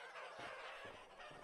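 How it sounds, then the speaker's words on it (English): Chickens in the survival game Vintage Story cluck and squawk in agitated bursts, a little distant and fairly quiet, with no talking. "Obviously Gen 1 chickens. Look at them freaking out down there."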